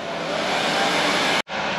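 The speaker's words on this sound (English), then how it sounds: "the hairdryer is coming back out" A hairdryer blows steadily at close range, drying a painted Cubone skull prop, a constant airy whoosh that cuts out abruptly for a split second before resuming.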